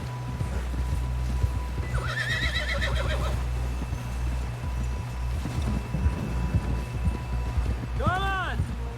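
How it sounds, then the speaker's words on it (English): In Red Dead Redemption 2, a horse's hooves clip-clop along under voices and a low rumble, then a loud whinny rises and falls near the end. "Someone help John down off this horse."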